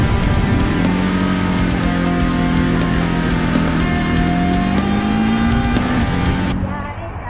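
Ducati Desert X motorcycle engine running steadily, a loud sustained droning hum with a rising and falling pitch that stays prominent throughout, easing off slightly near the end.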